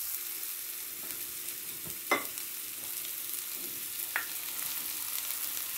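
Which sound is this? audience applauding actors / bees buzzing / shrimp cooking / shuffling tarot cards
shrimp cooking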